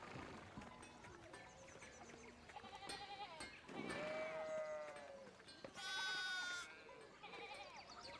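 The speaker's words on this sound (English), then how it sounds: "Yo, Veronica, get a handle on your sheep." Sheep bleat in the medieval-set video game Pentiment, with several wavering bleats, one long and loud, over a quiet backdrop of game sound.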